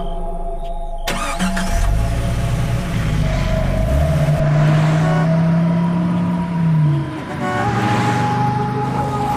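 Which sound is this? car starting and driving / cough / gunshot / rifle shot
car starting and driving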